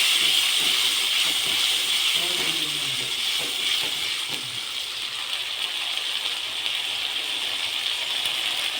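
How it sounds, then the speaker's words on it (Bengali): Stone-ground spice paste drops into hot oil in a pan and sizzles with a loud, steady hiss that settles into a softer fry, with brief voice at the start. "তেলে পরে ছেড়ে দিলাম, দিয়ে এটা একটু কষিয়ে নেব।"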